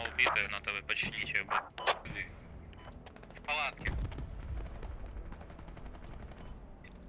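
Gunfire in the video game Squad during a night assault on villages, with bursts of shots and a heavy thump near the middle, heard under steady voice chat and radio chatter.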